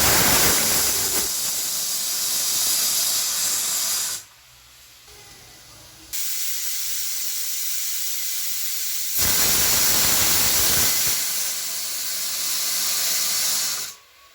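A pressure cooker of salted field beans vents steam in two long, loud, hissing whistle blasts, each several seconds long, separated by a short lull, close by.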